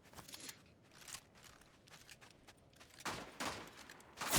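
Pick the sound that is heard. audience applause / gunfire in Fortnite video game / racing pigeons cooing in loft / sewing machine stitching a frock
gunfire in Fortnite video game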